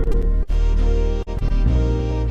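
Keyboard plays a Serenade-style full band accompaniment, with steady bass, chords and rhythm running together, broken by two brief dropouts before the arrangement carries on.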